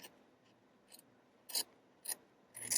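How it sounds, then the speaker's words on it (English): A razor blade trims tape around the edge of a resin coaster, giving several short, close scraping cuts in quick bursts with quiet pauses between them and no talking. "I'm going to take my razor blade"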